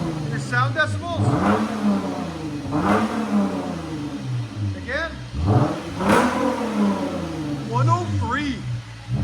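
Close, loud revving from a 2015 Lexus GS 350 3.5L V6 fitted with resonators: repeated throttle blips rising and falling over idle, with voices talking throughout.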